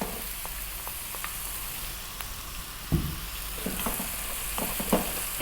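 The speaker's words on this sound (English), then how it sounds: "Give that a little mix." Vegetables and eggplant fry in a pan, a steady close sizzle running throughout, broken by scattered soft taps and scrapes as they are stirred, with one sharper knock near the middle.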